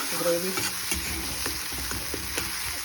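Shrimp gravy simmering and bubbling in a pan with chili powder, under a steady sizzle, while a spoon mashes and stirs it with soft irregular scrapes and taps.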